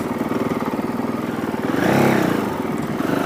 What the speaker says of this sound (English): I'm just a little bit above idle in second gear most of the time, I guess, on single track.